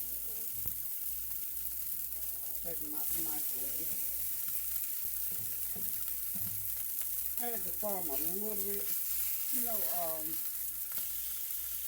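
Sausages sizzle steadily in a frying pan, an even crackling hiss that runs throughout while a person talks casually over it, close by.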